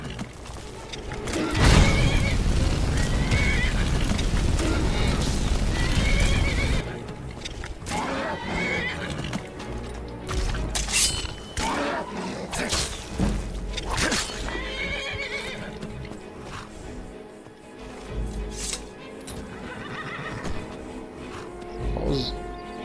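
Horses whinny and snort repeatedly over hoofbeats and rumbling effects in the video game Skyrim, with voices talking throughout.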